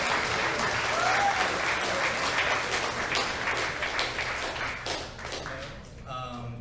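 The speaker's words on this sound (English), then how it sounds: "Give them a round of applause." Steady applause from an audience at a game jam showcase fills the clip, gradually thinning toward the end with some voices audible as it dies down.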